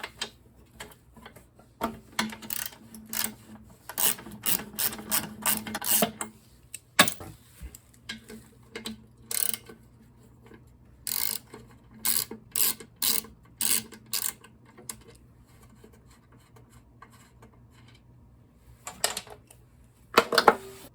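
A wrench or socket works a bolt loose on a Briggs & Stratton carburetor, giving bursts of quick ratcheting clicks in several runs with quiet pauses between, close and fairly crisp, with no talking.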